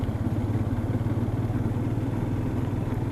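A motorcycle rides along an unmapped forest road through dense pine trees near Chatakpur, Darjeeling, its engine a steady mid-pitched drone with faint clatter, close and unbroken.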